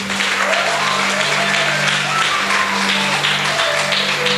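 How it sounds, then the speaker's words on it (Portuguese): A church congregation claps steadily and loudly during a Portuguese-language service, sustained applause filling the room with a low organ-like tone held underneath. "Você pode aplaudir bem forte o nome dele."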